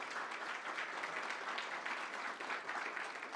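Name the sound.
audience applause for startup competition finalists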